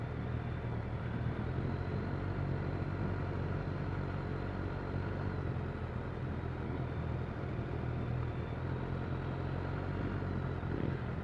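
Motorcycles on a bike run, a steady, continuous engine rumble with low clatter, a large group passing at moderate distance, with no talk over it.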